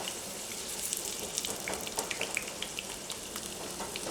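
Cut potato pieces frying in hot mustard oil, a steady close crackling sizzle with scattered sharp pops throughout, no voices.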